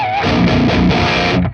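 Electric guitar played through a Total Distortion Worship distortion pedal, a dense, saturated wall of distorted chords ringing loud and continuous, then cutting off at the end.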